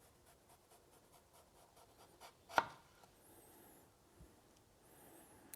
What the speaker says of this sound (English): I'm trying to cut them paper thin with a knife.